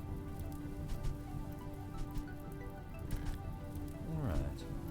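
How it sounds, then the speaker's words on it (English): Steady rain falls in a video game, a dense even patter throughout with a soft tonal background and a brief swooping effect near the end. "The rain is taking care of the exterior fire."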